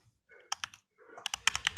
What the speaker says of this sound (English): I'm just currently typing into comments so that everyone can see.